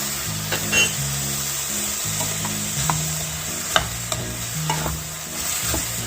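Garlic and ginger sautéing in a pan for chole masala, a steady sizzle broken by a few sharp scrapes and clinks of a spoon stirring against the pan, with a low hum underneath.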